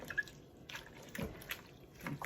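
Sliced pickle cucumbers are stirred in their juices, giving soft wet squelches and liquid drips in a few irregular bursts, quiet and close, with no talking.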